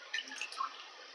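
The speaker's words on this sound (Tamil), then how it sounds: "எப்பவுமே அலசுறது வந்து இப்படி தான் தண்ணியில் அலசணும்." Pieces of seer fish (vanjaram) are rinsed by hand in water, giving a soft, quiet slosh with a few light drips, close by and with no voices.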